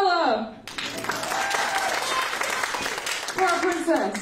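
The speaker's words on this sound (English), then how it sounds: "Final round of cheering for our gorilla!" A crowd claps and cheers for a Halloween costume contest at a recital, loud and continuous, with a voice calling out at the start and again near the end over the applause.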